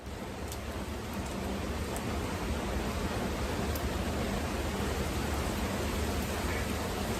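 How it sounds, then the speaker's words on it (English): Steady outdoor rain hisses as a dense, even wash of falling drops close by, holding at a constant level throughout with no talking. "Oh, it's coming back again. More rain, you know what I'm saying? More rain."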